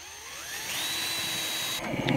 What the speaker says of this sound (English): go up top and drill the hole for the coax to come down